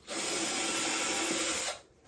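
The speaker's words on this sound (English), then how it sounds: "We can drill our 2 little holes" A power drill whirs loudly and steadily for under two seconds while drilling screw holes to mount a mechanical doorbell, then cuts off abruptly.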